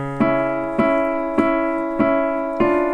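Five evenly spaced piano chords struck one after another, each ringing out before the next, clear and close with no talking.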